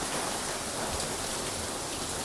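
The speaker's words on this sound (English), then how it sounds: "Enjoying the rain." Steady, dense rain patters down continuously, an even hiss of drops on surfaces with no pauses and no voices.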